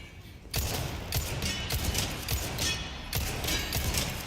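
Gunshots in the Resident Evil 4 Remake video game sound as a series of loud, sharp reports at irregular intervals after a quiet start, heard alone without speech.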